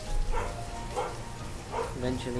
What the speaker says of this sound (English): And I apologise for my dog barking in the background